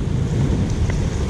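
Wind buffets the microphone aboard a small fishing boat heading into the wind off Groote Eylandt, a loud rough low rumble that roars without a break for just over a second.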